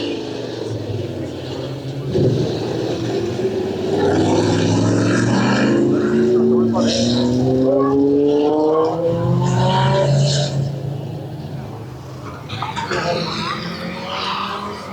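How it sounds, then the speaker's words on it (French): A loud car engine roars and revs on a race circuit during a track day, its pitch sweeping up and down through gear changes, sustained and close for the whole stretch. "c'est la voiture la plus bruyante de la journée"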